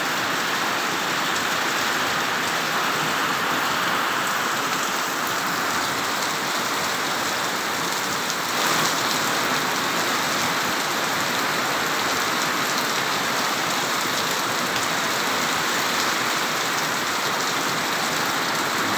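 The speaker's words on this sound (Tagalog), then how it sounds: "Lakas ng ulan." Heavy rain pours down steadily and loudly outdoors, a dense, constant hiss of drops hitting surfaces with no pauses, with a slight surge about halfway through.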